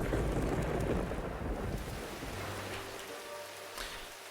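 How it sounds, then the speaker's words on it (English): Rain and thunder from a storm in the PC survival turn-based strategy game Diluvian Winds, a steady broadband downpour with low rumbling, loudest at the start and easing slightly, with no voices. "The storm rages."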